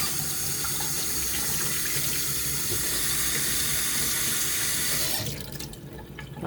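Hot water runs from a tap into a blender for rinsing, a steady, close splashing gush that cuts off near the end, leaving faint trickles.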